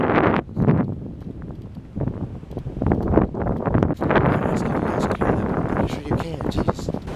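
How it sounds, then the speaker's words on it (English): A sudden heavy gust of wind buffets the microphone outdoors with a roar and rumble that swells and holds, while people talk over it. "Very heavy gust all of a sudden."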